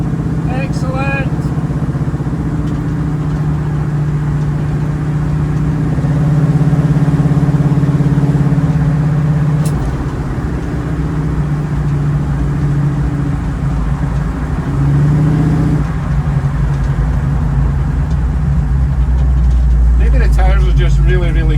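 A 1936 Chevy coupe's engine drones steadily from inside the cabin while driving in cold weather on snow tyres, its pitch shifting through gear changes over about twenty seconds, loud and continuous.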